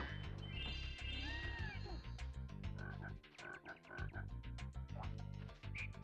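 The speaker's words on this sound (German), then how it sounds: "Frösche sind also wieder das Themenwesen dieser Welt" Frogs croaking in the video game Spyro 2: Gateway to Glimmer, a string of deep throaty croaks and ribbits over looping game music and effects.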